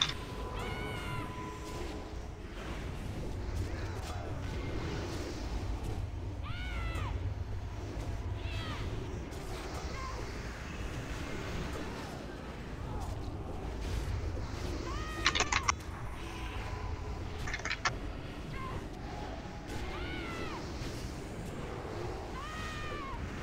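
The lynx boss in the World of Warcraft Zul'Aman raid lets out repeated cat-like yowls and meows over busy combat effects, with sharp bursts and chimes scattered through.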